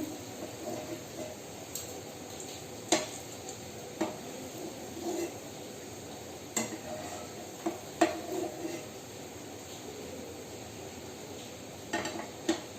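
Fried langcha sweets are lifted out of a frying pan, with sporadic metallic clinks and scrapes of a spoon against the pan over a quiet, faint background.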